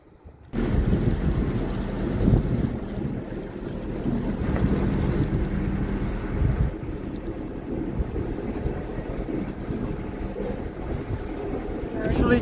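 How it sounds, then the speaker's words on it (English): Strong wind buffeting a microphone on a boat leaving Teddington Lock, a loud continuous low rumble with gusty swells and a faint engine hum underneath, running for about twelve seconds after a quiet start. "Very windy today"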